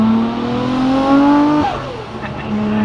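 A 500 HP Nissan Skyline R34 GT-R V-spec with a turbo engine revs loudly and close by on Florida streets. The pitch climbs steadily, then drops sharply as the throttle lifts, and the engine settles back to a steady drone.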